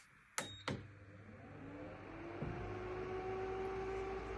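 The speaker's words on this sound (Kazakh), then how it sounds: "Енді біз печканы қосатын боламыз" An oven is switched on with two sharp clicks, followed by a steady rising hum and whir that runs continuously, with no voices.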